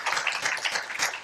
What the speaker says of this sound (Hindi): बहुत बढ़िया प्रश्न पूछा बहन जी ने, एक बार ताली बजाते हैं इनके लिए